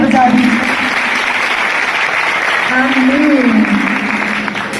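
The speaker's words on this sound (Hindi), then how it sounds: "खुदा के खादिम के लिए जोरदार ताली बजा दी" An audience at a religious gathering claps loudly and steadily in a dense, sustained burst, with voices calling out over the applause.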